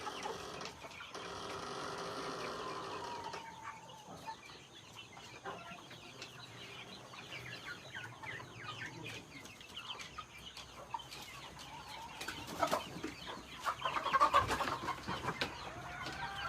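Fattened chickens being raised on a farm cluck and murmur steadily as a flock, with scattered louder squawks and a rooster-like call near the end, fairly close and continuous, with no speech.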